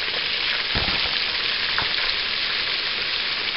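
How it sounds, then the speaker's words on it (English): Butter and flour sizzle and fry in a pan with a steady, dense crackle close up, plus a couple of brief stirring scrapes near the start and middle. "now that we have our butter nice and bubbly, we're going to add 2 tablespoons of flour"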